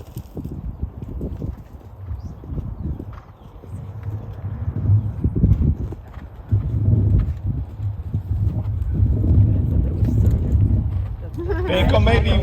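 Horse hooves thud in an irregular cantering rhythm during show jumping, fairly close, with some movement noise and shuffling around it.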